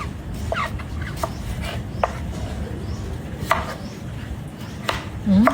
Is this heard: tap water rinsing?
no